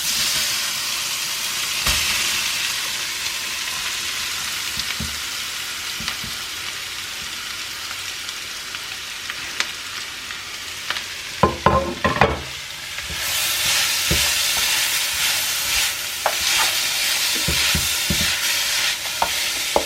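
Carrots for carrot halwa sizzle steadily in a pan while a spoon stirs them, with a continuous frying hiss and scattered scraping knocks, a brief burst of louder clatter midway, close and moderately loud with no talking.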